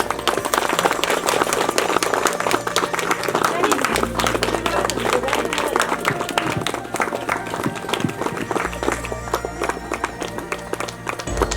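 Applause at a foundation's inauguration program, a crowd clapping steadily and loudly throughout, with background chatter and a low hum under the clapping.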